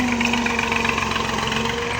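A tractor engine idles in a village, a steady, continuous mid-pitched rumble with a faint rhythmic knock, close by and unbroken, with no talking.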